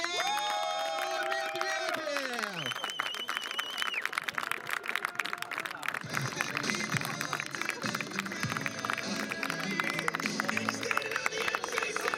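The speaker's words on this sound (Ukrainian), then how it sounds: "давайте всі привітаємо бурхливими оплесками людину, яка забила 200 м'ячів у майдерській футбольній лігі" A crowd at an amateur football league awards ceremony cheers and whoops, with music and shouting voices filling a noisy hall throughout.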